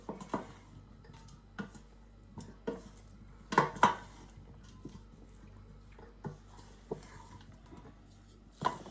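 Utensil gently knocking and scraping against a dish while mixing baked bean pie filling with potato chunks and Gruyère, a sparse series of soft clinks and taps at irregular intervals in a quiet kitchen.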